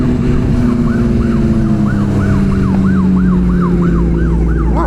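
A police siren wails loudly and close by in a rapid yelp that rises and falls over and over, with a steady rumble of engines and traffic beneath it.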